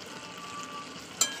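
Vegetables with spices fry in a pan for a fish curry with potatoes and beans, a faint steady sizzle ending in a single sharp metallic clink.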